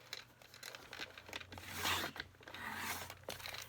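Card stock being cut to size, heard as close, scratchy slicing and rasping strokes with a rising swell in the middle, alone and fairly quiet.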